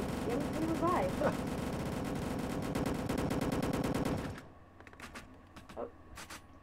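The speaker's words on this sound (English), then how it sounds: "Oh, the guns are going crazy." Rapid machine-gun fire rattles loud and continuous through a Dusty Trip game session, then cuts out, leaving sparse scattered shots and faint game noise.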